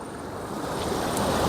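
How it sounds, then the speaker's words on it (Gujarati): Rushing water in the Kadiya Dhro river canyon of Kutch, a steady broadband roar that swells slightly louder toward the end, with some wind noise. "ધોધમાર વહેતું પાણીનો આપણે અવાજ સંભળાતો હશે"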